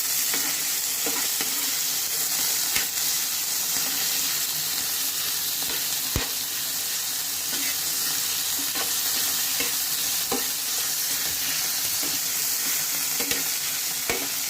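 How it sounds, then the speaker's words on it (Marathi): Tomato and onion fry in a pan for paneer curry, giving a steady, close sizzle with scattered light scrapes and taps of stirring throughout. "टोमॅटो कांदा हे छान फ्राय होऊ देणार आहोत"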